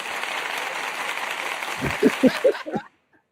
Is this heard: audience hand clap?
yes